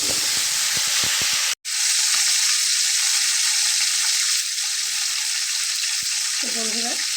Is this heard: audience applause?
no